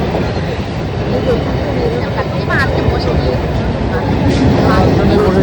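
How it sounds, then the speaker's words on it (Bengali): A train pulling into a station, loud continuous rumble and rolling rail noise close by with faint squeals and clatter, a voice speaking over it. "চলো, চলে এসছে সবসময়কার মতন ট্রেন।"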